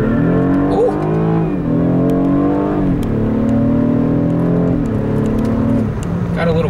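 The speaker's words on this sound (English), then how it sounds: "Let's go back to manual and Sport Plus and do one more acceleration run just for the heck of it." A 2016 BMW 328i in manual Sport Plus mode pulls hard through an acceleration run, its engine note loud and steady, climbing in pitch with brief dips at each gear change, heard from inside the car.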